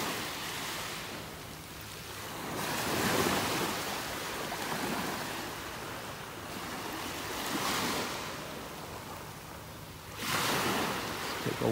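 Gentle ocean waves break on a calm beach at Delnor-Wiggins Pass State Park in North Naples, Florida, surging in soft, rhythmic swells with a wash of surf and light wind between crests.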